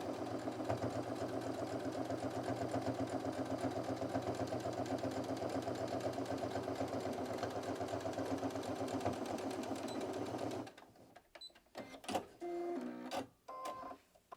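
Sewing machine stitching the lining of a small double bag, a steady close rapid mechanical whir running for about ten seconds before stopping, followed by a few scattered handling clicks and rustles.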